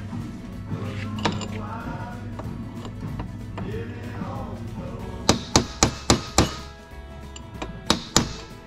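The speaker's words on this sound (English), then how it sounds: "I'm just taking a chisel." A hammer striking a chisel against a part of a Mercury MerCruiser boat raw water pump during a rebuild, a burst of about eight sharp metallic knocks close up after a stretch of low mechanical noise.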